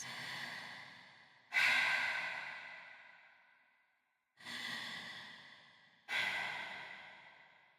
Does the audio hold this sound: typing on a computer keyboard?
no